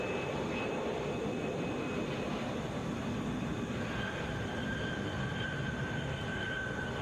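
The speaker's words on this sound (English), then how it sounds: "Coming in from Kansas City, that's 2438, Boeing 757." A Boeing 757 arriving at Atlanta International Airport produces a continuous broadband jet roar with a faint whining tone above it, steady and unbroken, with no voices.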